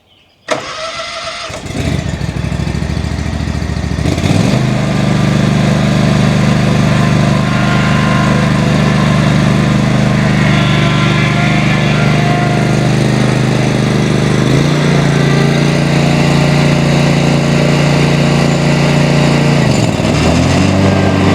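Lawnmower engine being started on a cold morning, cranking then catching into a loud, steady, close running drone that dips briefly twice.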